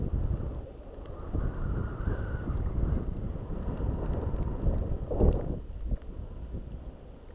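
Strong wind roars and buffets steadily throughout, rumbling low with gusts, and a louder burst near the end.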